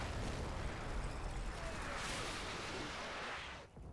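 Artillery barrage in the WWII video game Combat Mission: Battle for Normandy, a dense, sustained rumble of overlapping blasts and bursts that holds steady and loud before dropping away near the end.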